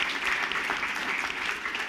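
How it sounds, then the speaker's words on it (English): An audience at a housing summit applauds steadily, a dense, continuous round of clapping that fills the room. "Let's give her a big round of applause."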